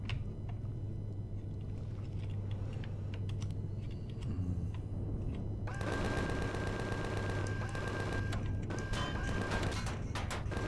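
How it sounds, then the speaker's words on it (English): Rapid automatic gunfire in the space game Empyrion crackles in dense bursts over a steady engine rumble, growing heavier and busier in the second half, with no talking. "Oh, somebody's shooting back at me."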